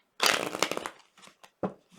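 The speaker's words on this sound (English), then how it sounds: "It'd help if I shuffle it properly." A close, crisp riffle of tarot cards being shuffled, a dense papery flutter that trails off into a few lighter taps and flicks.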